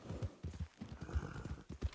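A horse in a video game plods with soft, uneven hoof thuds and low snorts, a short close burst of clip-clop at moderate volume with no clear speech.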